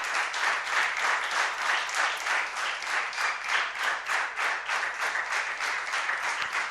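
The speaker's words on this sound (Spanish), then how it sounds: "¿cuánta de esa gente hay aquí que le da un aplauso al Señor?" A church congregation applauds during a sermon, a steady, even wash of many hands clapping that continues for the whole stretch at moderate volume.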